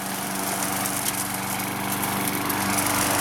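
A Craftsman 6.75hp lawnmower mows a suburban lawn, its engine a steady, loud, close drone with no pauses.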